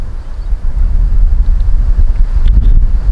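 Steady wind buffets the microphone outdoors at the site of a medieval village, a continuous low roaring rumble with gusty swells and no voices.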